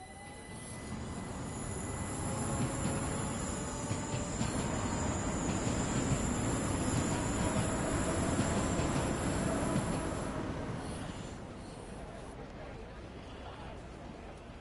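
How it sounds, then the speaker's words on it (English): Train wheels singing on the rails in the simulation game Train Sim World 6, a sustained high metallic squeal over a broad rumbling roll that swells in the middle and fades near the end. "There's the old Train Sim classic rail singing."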